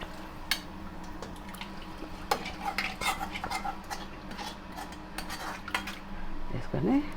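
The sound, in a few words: mixing rice into mutton curry in a pot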